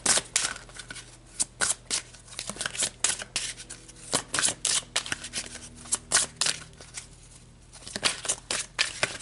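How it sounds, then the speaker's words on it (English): Tarot cards shuffled close up, a steady run of soft, crisp flicks and riffles repeating in quick uneven bursts over a quiet background. "let's pull some heaven cards and see what messages they"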